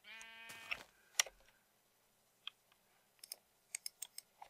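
A sheep in Minecraft gives a single close, clear bleat, followed by scattered sharp clicks of a keyboard and mouse in otherwise quiet surroundings.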